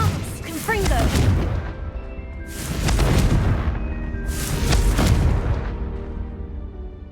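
Loud Confringo blasting-curse explosions from Hogwarts Legacy go off in three heavy booms spaced about two seconds apart, each with a crackling burst and rumbling decay, and a voice is heard near the start.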